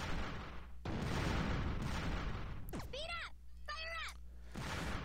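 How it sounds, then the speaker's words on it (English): Bombs explode in the Bomberman Live video game: loud, broadband blasts that run back to back for several seconds, followed by shorter bursts and warbling game effects. "my bomb was not big enough to kill Dark Blue Bomber"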